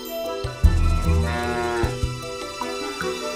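A cow in the video game Princess Connect! Re:Dive lets out one long, loud, close moo that rises and then trails off, followed by softer tonal game sounds, with no talking.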